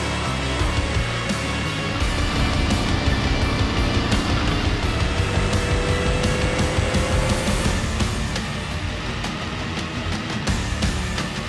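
Desert racing truck driven in BeamNG Drive, a dense steady engine roar with rumbling low end and a rising whine near the middle, loud and continuous with no voices.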